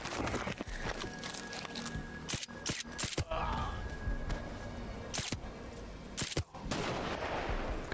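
Gunfire and a grenade blast in Call of Duty: Modern Warfare Remastered: sharp shots crack out in scattered bursts, with a heavier burst near the middle amid steady background battle noise and some footstep-like shuffling.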